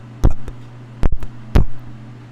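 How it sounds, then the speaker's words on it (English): A handgun fires .38 Special rounds: three sharp, loud, close reports spaced about half a second to a second apart, each ringing briefly over a steady low hum. "When I'm firing, and I usually when I'm practicing, I use 38 special rounds."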